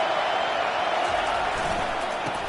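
A steady roar of a stadium crowd at an NCAA college football game against Auburn fills the clip continuously, loud and unbroken with diffuse cheering.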